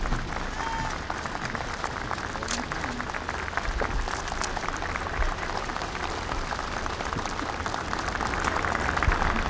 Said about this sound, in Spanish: Este aplauso es el testimonio del afecto entre dos grandes amigos.